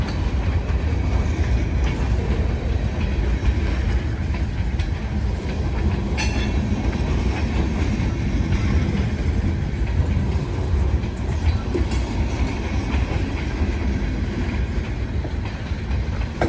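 Two mixed freight trains roll through an elevated curve, their steady rumble and clickety-clack of wheels filling the air continuously at close range, with a faint squeal now and then.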